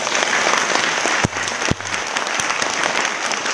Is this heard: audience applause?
yes